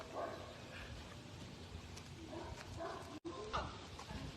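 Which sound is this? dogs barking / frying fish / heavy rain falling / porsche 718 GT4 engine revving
dogs barking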